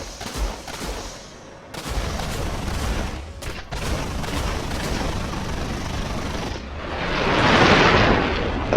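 Aircraft guns in War Thunder fire in dense rattling bursts over a constant engine roar, broken by short gaps, with a swelling roar near the end.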